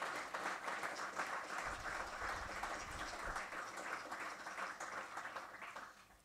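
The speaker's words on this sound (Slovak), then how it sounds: "Môžeme ešte Jozefovi dať jeden potlesk, pretože to naozaj bolo skvelé predstavenie." A live audience applauds Jozef's performance at a faith talk show, with dense, steady clapping that carries on for about six seconds before easing slightly.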